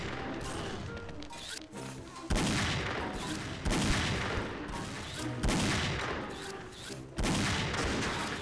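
AWP sniper rifle shots in the shooter game XSHOT, four loud, sharp blasts spaced roughly two seconds apart, each with a booming tail, over busy game noise.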